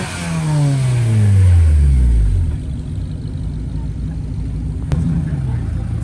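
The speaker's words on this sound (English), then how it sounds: "Got my boy here with the BMW that's struggling a little bit, trying to get it back and trying to back up" Engine of a BMW revving hard as it struggles to back up at a late-night car meet, a loud close roar that climbs and falls away, then a lower idle rumble with someone talking.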